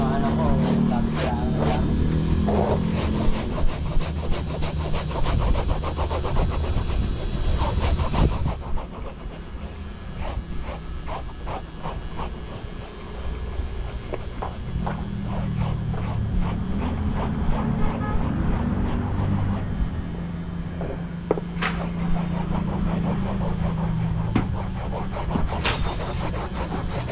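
Foam on a motorcycle seat being trimmed and smoothed by hand, giving a steady rasping, rubbing scrape with repeated short strokes throughout, close by, while someone talks over much of it.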